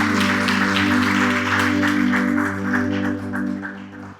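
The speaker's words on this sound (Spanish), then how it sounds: "Si lo cree, denle un fuerte aplauso al Señor" A church congregation claps for the Lord in a sustained round of applause with music playing underneath, the clapping fading somewhat toward the end.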